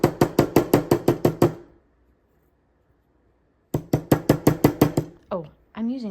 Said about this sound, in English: Give it a little hammer.